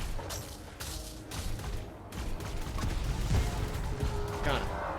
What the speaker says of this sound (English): We'll just shoot him.